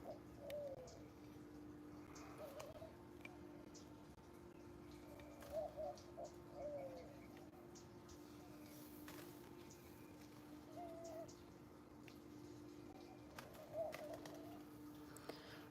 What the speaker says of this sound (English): I think that there's probably mourning doves, quail.